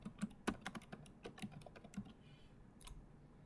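Quick, light keystrokes on a computer keyboard in a short, irregular burst, close and fairly quiet, ending with a pause and one last tap.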